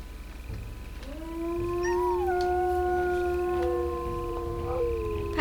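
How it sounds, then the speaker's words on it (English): Wolves in the WolfQuest Anniversary Edition video game let out a long, rising howl that holds a steady pitch and bends near its end, clear and close over a low background rumble. "they'll howl in victory to let them know who's boss."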